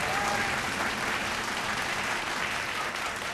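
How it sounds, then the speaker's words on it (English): Audience at a televised vocal competition show applauds steadily throughout, a dense, even wash of clapping with no talking. "A round of applause,"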